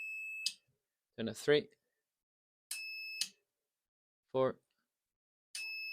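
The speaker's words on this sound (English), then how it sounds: "and we should hear the beep." An Ameritron RCS-8V remote coax switch relay gives three short high beeps, each a clean tone lasting under a second, spaced a couple of seconds apart, with a man counting antenna numbers between them.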